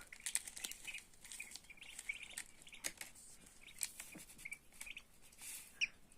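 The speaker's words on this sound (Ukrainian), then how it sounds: "Ось такі каченятка, шипунятка, мускусятка у нас з'являються." Newly hatched mute and muscovy ducklings give faint, high, scattered peeping chirps, quiet and close, with soft rustling between the calls.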